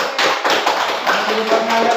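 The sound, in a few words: class clapping hands together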